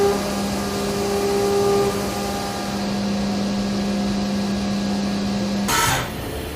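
A CNC machine cuts a part on a 4th axis, using an R.75 tool on 1.5 inch diameter stock: a steady whine with sustained tones runs throughout, ending in a brief louder burst near the finish.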